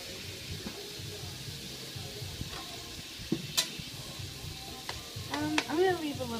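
Pineapple and carrots stir-fried in a pan for vegan fried rice, with a steady low sizzle, scraping spatula strokes and a few sharp clinks, the sizzle swelling louder near the end as the pineapple goes in.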